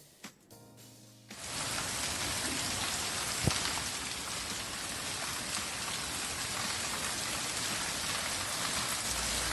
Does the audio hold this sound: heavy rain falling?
yes